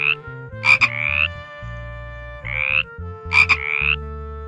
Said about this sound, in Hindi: ये देखो बच्चों फ्रॉग।